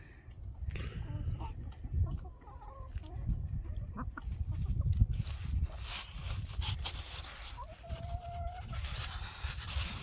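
Hens cluck softly and intermittently over a steady low rumble of outdoor noise, with a higher drawn-out call near the end.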